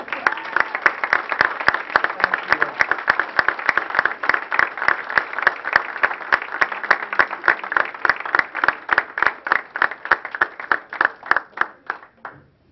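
Graduation-ceremony audience applause for a softball team's families and coaches, a fairly small crowd clapping in quick, sharp, regular claps that continue for over twelve seconds before tapering off at the end.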